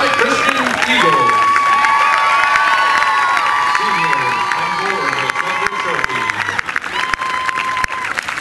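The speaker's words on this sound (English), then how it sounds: "Let's give a big round of applause for the Summit Christian Eagles" Crowd applause and cheering at a high school baseball game, steady clapping with shouts and whoops from the stands, loud and sustained, with a voice over a public address system and children shouting in the mix.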